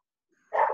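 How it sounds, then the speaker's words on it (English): A dog barks once, loud and close, in a single burst at the end of an otherwise quiet moment. "That's my dog barking at the guy."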